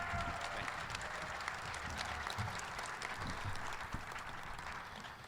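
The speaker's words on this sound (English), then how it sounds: "Please, a round of applause for our Washington State System President, Kirk Schultz." A crowd at a university sports complex groundbreaking ceremony claps in a soft, distant wash of applause that tapers slightly toward the end.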